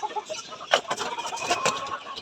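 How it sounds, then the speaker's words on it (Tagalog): Backyard chickens cluck and chatter close by before feeding, several birds giving short overlapping calls in an irregular rhythm at moderate loudness. "guys, magpapakain tayo ngayon ng mga manok."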